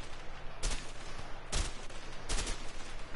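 Three sharp bursts of gunfire from the video game A Way Out, evenly spaced about a second apart, loud and close against a steady low background, with no talking.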